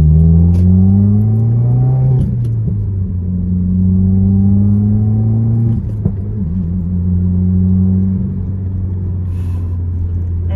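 A 2019 Subaru WRX (Black Widow edition) drives on the road, its engine droning loud and close with rising and falling tones through gear changes, plus a few brief clicks and rattles in the cabin, with no talk.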